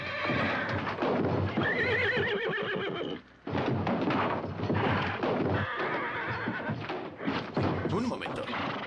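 A horse in a western film scene neighs with a wavering whinny and its hooves clip-clop over the ground. People talk throughout, and the sound breaks off briefly partway through.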